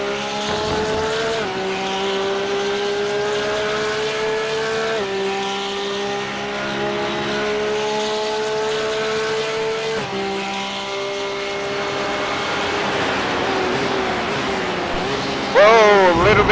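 A GT3 race car on a hot lap at the CKR GT3 Championship, heard from onboard, with a loud engine climbing through the revs in repeated gear-shift steps and a brief tire squeal at the end, with speech faint underneath.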